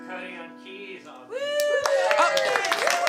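Applause and cheers from a live audience for the keyboard player at a small Hospitality House music show, a sung tone first, then the crowd rising loud and lively about halfway through.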